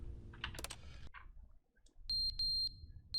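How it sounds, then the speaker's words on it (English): Sharp electronic beeps in the video game The Stanley Parable: Ultra Deluxe, three loud high-pitched tones in quick succession after keyboard-like clicks and a clatter. "What is this beeping? Ah, it's too loud"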